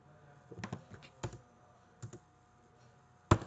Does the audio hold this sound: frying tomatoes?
no